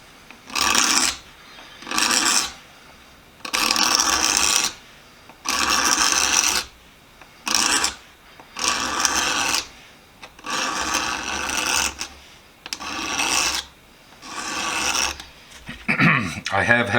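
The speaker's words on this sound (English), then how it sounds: "I scrape the handle with a razor blade" A razor blade scrapes an old wooden hammer handle in a series of rasping strokes, each a second or two long with short pauses between, close and clear with no talk over them.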